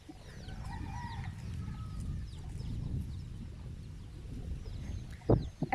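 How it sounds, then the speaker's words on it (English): Two hens with their little chicks cluck softly in an outdoor farmyard near a cow, scattered quiet calls and chirps over a steady low background, with a louder sharp call near the end. "There are some chickens right there. Two hens with the chicks, one hen with the little chicks"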